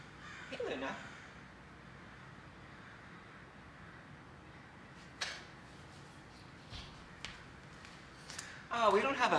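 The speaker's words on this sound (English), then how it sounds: "I think Luna's interested in the birds." Crows caw outdoors at a distance, a few faint scattered calls over a low steady background hum, with a louder burst of activity near the end.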